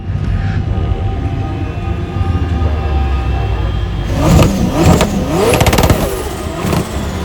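The engine of a 1750 bhp hyper buggy idles with a deep, loud rumble, then roars up in several sharp revs in the desert, rising and falling before it settles back to a steady growl.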